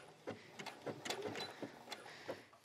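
Sewing machine running a narrow zigzag stretch stitch over elastic on children's leggings fabric: a faint, quick mechanical ticking and whirring in short uneven bursts, close by.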